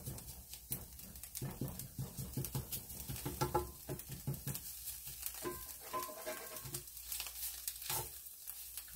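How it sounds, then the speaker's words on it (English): Sausage and flour cooking in a pan for gravy, a steady crackling sizzle with scraping and stirring knocks throughout, close and fairly quiet, no voices. "I'm just focusing on cooking the flour down right now and chopping the sausage up smaller"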